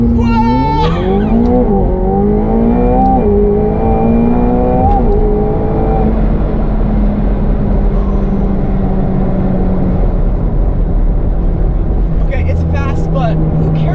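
A McLaren 720S launches hard from a standstill, its engine note climbing steeply through rising revs and a gear change before settling into a steady roar, with a voice exclaiming over the engine.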